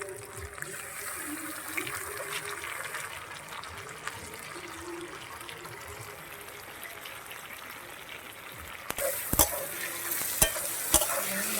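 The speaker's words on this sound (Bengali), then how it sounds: "মশলাটা দিয়ে ভালো করে আমি কষিয়ে নিচ্ছি।" Potatoes fry in a pan with ground cumin and chilli paste made from fresh and dried chillies, a steady sizzle under repeated stirring, with sharper scraping clicks of the spoon toward the end.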